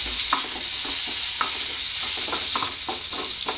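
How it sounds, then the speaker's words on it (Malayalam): Mustard seeds, sliced shallots, dried chilli and curry leaves sizzle in hot oil for jackfruit puzhukku, a bright continuous crackle broken by regular scraping strokes of a spoon stirring the pan close by. "വറ്റൽമുളകും കറിവേപ്പിലയും കൂടെ ഇട്ട് നന്നായി ഇത് ഒരുമിപ്പിച്ചെടുക്കാം"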